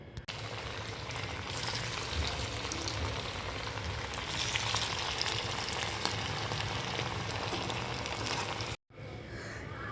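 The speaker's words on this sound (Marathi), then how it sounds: "तर आता तेल तापलंय आपले छान। त्यात आपण केलेले फ्रेंच फ्राईज घालूयात।" Homemade french fries for a fasting-day recipe sizzle steadily in hot oil, a dense, continuous close crackle that holds evenly for the whole stretch before a sudden brief break near the end.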